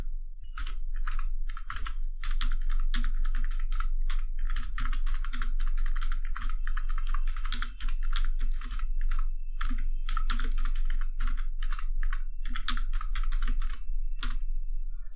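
Rapid, steady typing on a computer keyboard while entering C program code, close and dry, with dense bursts of key clicks and brief pauses, no voices.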